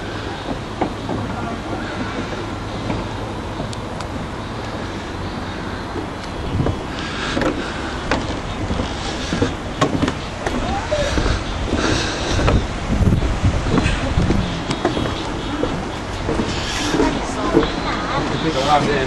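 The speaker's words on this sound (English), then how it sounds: "sitting on the train." A passenger train ride at Gatorland gives a steady, close rumble of the moving cars, with heavy wind buffeting the microphone throughout.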